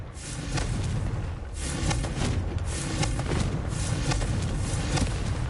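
Confringo blasting spells going off in Hogwarts Legacy, a loud, continuous rumbling of low booms and crackling bursts filling the scene with no speech.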